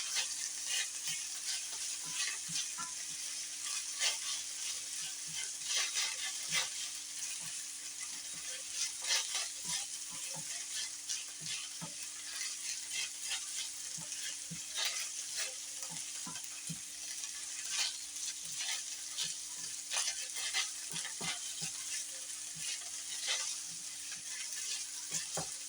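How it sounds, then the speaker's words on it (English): Corn sizzles and crackles steadily as it fries in a hot pan for a long stretch, with occasional scraping stirs and small pops, no voices. "We're just frying it up."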